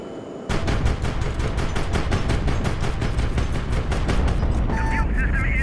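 Missile launch from a ship in the video game HIGHFLEET, heard as a sudden loud onset followed by a rapid, steady stream of sharp pulsing bursts that continues for several seconds, with faint tonal beeps near the end.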